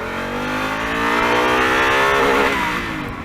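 A Honda Africa Twin adventure motorcycle accelerates hard in first gear, its engine note climbing steadily in pitch as revs build for about three seconds, loud and close.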